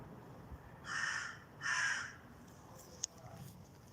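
Crows squawk in a garden: two loud, harsh caws in quick succession, nearby, followed by a single faint click and quiet background.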